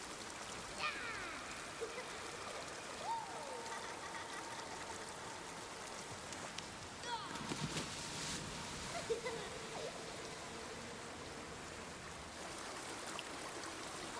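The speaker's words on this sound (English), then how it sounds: "So they're sounds of the ocean." Ocean water in the climbing game Jusant makes a soft, steady wash and trickle, faint and continuous, with a few small distant chirps and knocks over it.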